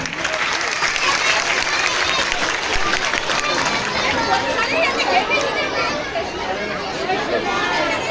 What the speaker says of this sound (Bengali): জোরে আরেক হাততালি